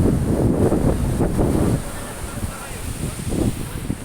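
Strong sea waves surging onto the shore at San Felipe, a loud continuous rumble with heavy wind buffeting the microphone, swelling and easing in pulses.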